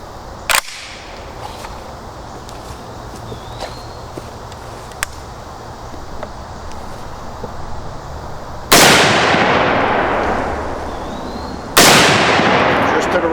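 A Springfield SAR-8 rifle fires outdoors: one sharp close shot at the start, a quiet stretch with faint distant pops, then two loud booming shots a few seconds apart, each with a long echoing tail.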